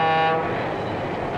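A diesel freight train's horn blares loud and close with a rich chord for a fraction of a second, then cuts off into a sustained rolling rumble of the moving train.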